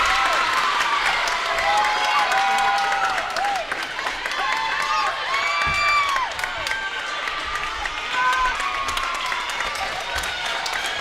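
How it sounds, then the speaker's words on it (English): A gymnasium crowd of Trojan fans cheers and claps continuously at a junior varsity high school volleyball match point, loud and sustained with shouts and excited voices throughout. "the Trojan fans will get on their feet and try to cheer their team on to victory"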